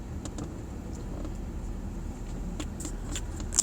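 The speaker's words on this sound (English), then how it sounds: "That is a 68 Ford F-100 Custom, fully restored." A fully restored 1968 Ford F-100 Custom pickup truck idling steadily nearby outdoors, a low continuous engine rumble with a few faint clicks and a small bump at the end.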